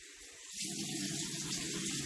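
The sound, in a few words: makeup brush being rinsed under running tap water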